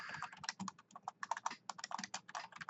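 Fast, close-up typing on a computer keyboard, a dense run of crisp key clicks with a steady rhythm and no talk over it.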